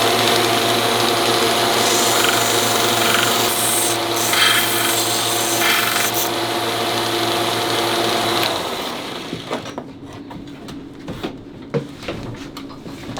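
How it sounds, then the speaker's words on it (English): Steady rasping and rubbing of a file rounding the sharp edges of wooden cubes, continuous for several seconds, then trailing off into lighter, intermittent scraping and taps. "Now I'll round all the sharp edges on the cubes."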